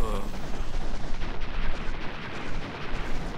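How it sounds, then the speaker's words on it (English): Explosions in Mega Man X6 form a dense, rumbling barrage of repeated blasts, a continuous roll of booms with uneven peaks and no pauses. "Enough explosions, Flip?"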